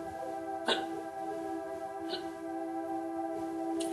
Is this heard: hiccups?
yes